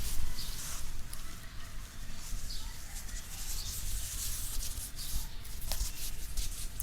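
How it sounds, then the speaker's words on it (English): A soft ball rolls along a person's forearm, a quiet close-up rubbing and brushing that continues without pause, with no talking. "I'm going to first roll this soft ball along your forearm."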